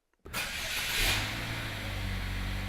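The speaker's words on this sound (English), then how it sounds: "Start the engine." Car engine with a gasoline direct injection system cranking and catching after fuel feed line reconnection, bursting from silence into a loud rev that settles to a steady idle close by.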